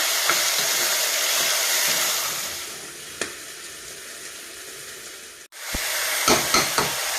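Ivy gourd curry frying and simmering in a pan in a home kitchen, a steady loud sizzle with a few stirring clinks and scrapes near the end, no voices.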